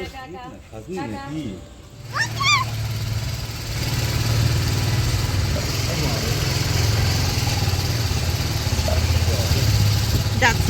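Motorcycle engine cranked and started, then settling into a steady close idle, with people talking over the start and light voices around it.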